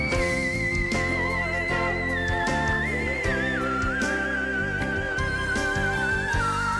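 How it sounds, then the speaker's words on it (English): A female singer holds a high whistle-register tone that slides through several key changes over sustained accompaniment, steady and prominent for the whole stretch, during a live performance of a ballad. "she does whistle tone with so many key changes"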